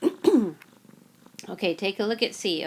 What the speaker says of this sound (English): You can hear her purring.